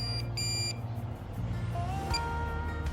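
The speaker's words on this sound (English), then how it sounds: "let's turn it on real quick and listen to those beeps" A Minelab Pro-Find 40 pinpointer powering up, giving a series of short electronic startup beeps over a steady low hum, with a rising tone near the end; close and clear, no talking.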